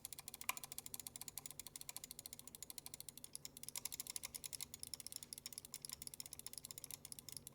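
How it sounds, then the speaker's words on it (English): A Logitech G Pro wireless mouse clicks rapidly and steadily, a long run of evenly spaced, crisp, faint clicks heard on their own without talk. "This is what my G Pro wireless sounds like for reference."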